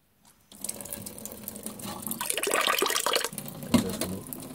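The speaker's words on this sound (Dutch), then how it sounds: "we doen wel even wat beetje water bij" Water pours steadily into a container, a close splashing stream that starts after a brief pause and swells into a fuller gush before easing off, with no talk.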